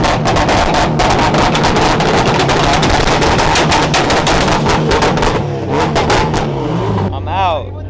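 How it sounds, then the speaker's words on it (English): A Ford Fusion with a big turbo revving loudly at an import car show, a rapid crackling burst of engine pops and roaring revs, very loud and close, with people talking over it. "Oh, the Ford Fusion with the big turbo."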